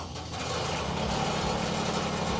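Engine of a Merris air curtain incinerator fan starting up with the key and settling into a steady, loud idle, a continuous low mechanical drone close by.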